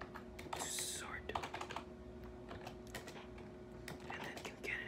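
Computer keyboard clatters steadily during coding, with quick irregular keystrokes close up, a soft lo-fi music bed and low background hum underneath.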